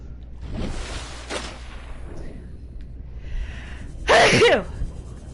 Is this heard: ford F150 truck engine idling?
no